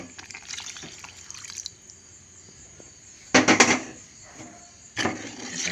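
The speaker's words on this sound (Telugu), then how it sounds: "ఇప్పుడు కొద్దిగా ఇందులో వాటర్ వేసేసుకుందాం" Water tipped into cooked dal made with raw mango, heard as two short pouring splashes, the first loud and the second a little softer, separated by quiet pauses with faint background ticking.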